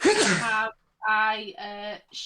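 A loud, close sneeze bursts out at the start, followed by a short gap and then people talking over a casual online chat.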